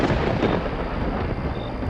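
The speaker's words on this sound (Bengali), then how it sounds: "সেই মুহূর্তে প্রাসাদের বাইরে হঠাৎ বজ্রপাত হলো।" Thunder crashes outside a palace in a Bengali horror audio story, a loud, dense rumble that stays heavy for the whole stretch, with no voice over it.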